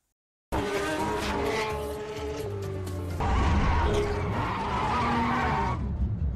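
Cars skid and squeal through a film car chase, long screeching tire noise with engine roar running continuously and growing louder and harsher partway through, alone without speech.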